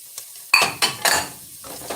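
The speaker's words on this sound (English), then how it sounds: "And begin to stir that around in there." A spoon stirring garlic, dried thyme and parsley into a Cajun corn and quinoa chowder in a pot, a few distinct scraping strokes with light clinks and a faint sizzle, close and clear with no talk.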